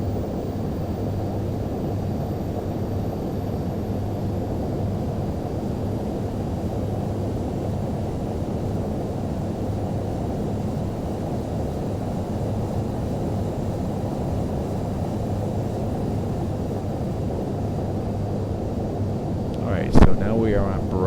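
A simulated airliner engine hums in a steady, even drone as the plane slowly accelerates while taxiing in Microsoft Flight Simulator X, with a short click near the end.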